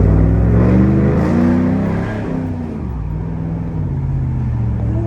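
A HEMI truck engine revs loudly nearby, its deep exhaust rumble swelling then easing off to a steady throaty idle, with no talking over it.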